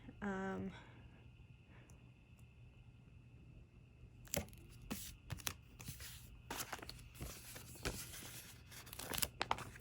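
Paper cutout letter G ripping, several sharp short tearing and crinkling bursts close by following a quieter stretch, with a brief vocal sound at the start.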